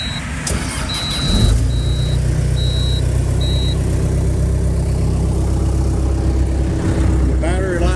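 A 2013 Caterpillar 259B3 compact track loader cranks and fires, then settles into a steady, close diesel idle with a deep low rumble; a series of short warning beeps sounds early on.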